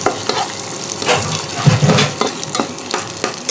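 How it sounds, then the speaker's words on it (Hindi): Tomatoes and mixed vegetables fry in a pan for pasta, with loud, close sizzling and repeated scraping and stirring strokes throughout. "सारे वेजिटेबल को कर लेते हैं फ्राई, थोड़ा सा, ज़्यादा नहीं करना है"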